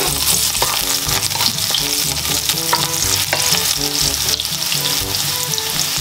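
Garlic sizzles loudly in a hot pan, with a steady frying hiss throughout and repeated scraping stirs of a utensil against the pan.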